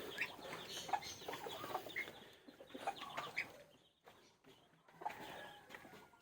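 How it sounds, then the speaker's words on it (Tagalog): Chickens clucking steadily nearby at a feeding spot, several birds calling over one another in a busy, overlapping chatter that eases briefly before picking up again. "bigyan ko muna ng tubig yung manok"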